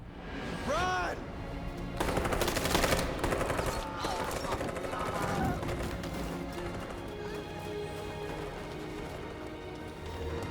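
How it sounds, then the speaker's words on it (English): Bursts of rapid rifle gunfire crackle in the Detroit: Become Human video game as armed forces shoot at a group of androids downtown, dense volleys around the two-second mark fading into ongoing sporadic shots, with voices speaking over parts of it. "They're just shooting at a group of humanoids."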